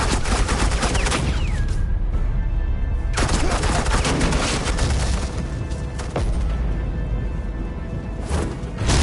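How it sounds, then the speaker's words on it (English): Sustained suppressing gunfire from automatic weapons in the Batman: The Enemy Within video game, loud, dense and continuous, with rapid bursts and booming impacts running throughout. "suppressing fire"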